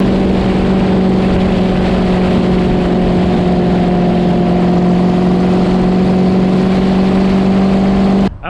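The car Klaus, running with a clutch issue, drones along while cruising, its engine holding a loud, steady hum at constant revs for several seconds before cutting off abruptly at the end.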